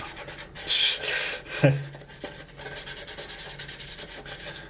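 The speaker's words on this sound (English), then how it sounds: "Probably the most sanding you guys are going to watch me do." Repeated rubbing strokes of sanding a plastic model kit of the USS Enterprise, rhythmic and close, with a brief knock partway through.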